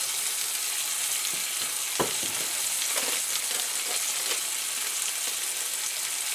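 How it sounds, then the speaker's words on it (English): Pork chops searing in browning butter in a hot pan for a pork chop supper, giving a steady, close, even sizzle with a sharp tap near two seconds and a few faint clinks, no talk. "Into that browning butter to sear that."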